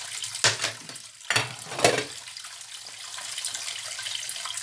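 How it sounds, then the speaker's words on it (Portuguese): Water from a kitchen tap runs at the sink while breakfast dishes are washed, with a few louder splashing clatters early on and then a steady low rush alone. "Aí vou fazer a louça do café."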